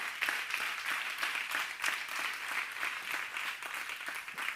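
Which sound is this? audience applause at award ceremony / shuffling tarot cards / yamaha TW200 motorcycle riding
audience applause at award ceremony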